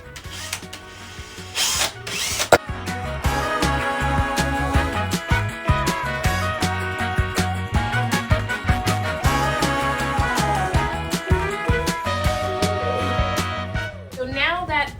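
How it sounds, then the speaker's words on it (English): Power screwdriver driving screws into wooden boards for homemade shutters, several whirring bursts with ratcheting clicks between pauses, close up, with some talking. "So I'll take my screwdriver."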